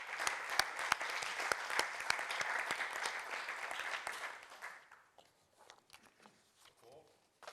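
A hall audience at a Dolenjske Toplice tourism fair applauds warmly for about five seconds, then the clapping thins out into scattered, fading claps.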